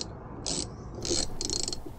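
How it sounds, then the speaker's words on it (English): Ratcheting mechanical clicks from bolting the commutator into an electric trolling motor with broken magnets, in three short bursts of clicking over about two seconds, close and moderately loud with no talk. "Bolt the commutator in."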